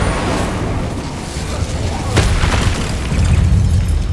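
An Incendio fire spell blasts in Hogwarts Legacy, a loud booming burst that rises midway over continuous rumbling combat noise, with a voice speaking underneath.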